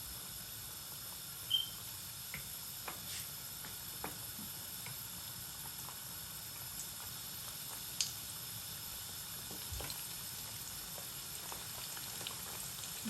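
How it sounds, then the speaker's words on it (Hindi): Buffalo wings frying in hot oil after an hour of marinating, a steady soft bubbling hiss with faint scattered pops and crackles, fairly quiet and continuous with no talking. "तो अब हम इनको फ्राई कर लेते हैं।"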